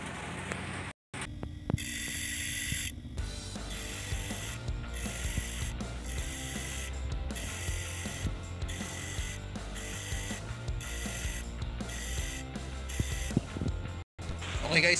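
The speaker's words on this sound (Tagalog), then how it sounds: "tapos ko nang mag-grind sa surface ng piston ng XRM125" Grinder working on the surface of an XRM125 motorcycle piston, giving a repeated rhythmic rasping pattern of short grinding strokes, fairly faint and close, with a couple of brief gaps and a voice speaking at times.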